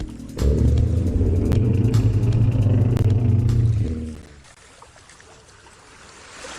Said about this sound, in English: Splashes of waves from the sea in a lake at the middle of the Uplands map.